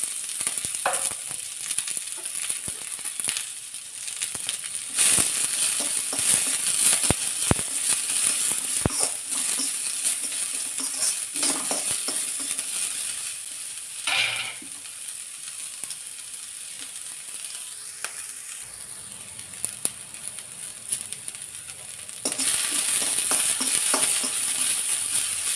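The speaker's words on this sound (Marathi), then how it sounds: "त्यामध्ये चिरलेला कांदा घालायचा." Chopped onion fries in oil in a kadai, giving a steady close sizzle with a few faint clinks and scrapes, and no talking.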